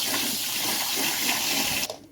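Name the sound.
water running from a kitchen tap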